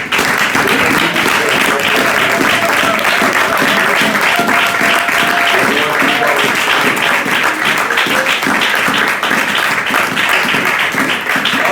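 Inside a church during a Sunday service, a congregation applauds, and the loud, dense clapping continues without a break from start to finish.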